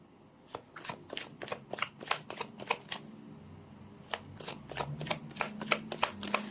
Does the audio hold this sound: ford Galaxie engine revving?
no